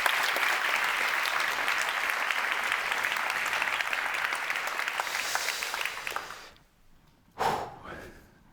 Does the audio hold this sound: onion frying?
no